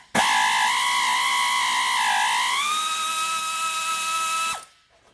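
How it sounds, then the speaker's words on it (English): A 1/4-inch drive air ratchet spins out a 14mm bolt on a 2010 Toyota Corolla front strut job, one steady, loud, close pneumatic whir lasting about four seconds with a rising pitch, then cutting off sharply. "A little 1/4" drive air ratchet."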